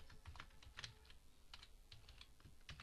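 Rapid clicking keystrokes on a computer keyboard as HTML code is typed, heard close but quietly, in uneven bursts with short pauses between them.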